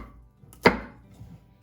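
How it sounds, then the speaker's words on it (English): A sharp knife chops down through a whole pumpkin in one loud, crisp cut on a board, followed by a brief fading scrape and quieter handling. "You just want to make sure that you're level when you're cutting, using a good sharp knife."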